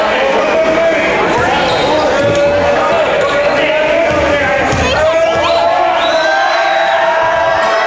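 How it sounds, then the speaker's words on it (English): Loud crowd of fans cheering and whooping through a high school basketball game gym, a steady roar with a rising swell near the middle and a sharp bounce or slam, voices mixed in throughout. "with the fans cheering loudly"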